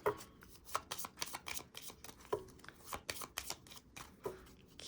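A deck of cards riffled and shuffled repeatedly in quick, crisp bursts of papery flutter, close up, with no talking.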